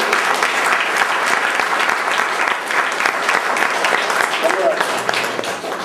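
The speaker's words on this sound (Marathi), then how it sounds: "आपण सगळ्यांनी उभा राहायचं आहे, सगळ्यांनी उभा राहायचं आहे आणि मोठ्याने टाळ्या वाजवायचे" A standing audience at a NET SET speech event claps loudly and continuously, with thick, sustained applause that holds at full strength throughout, no voices rising above it.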